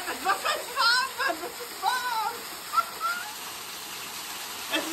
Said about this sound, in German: Leute, ihr seht einen Schwefelwasserfall.